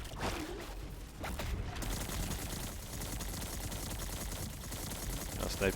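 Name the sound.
gunfire while shooting enemies in a video game (Destiny)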